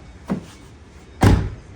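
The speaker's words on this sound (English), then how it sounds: "Hey, listen to that door." A Ford Mustang car door shut twice, first a lighter tap and then a solid, heavy thunk about a second later, both close and with no talk.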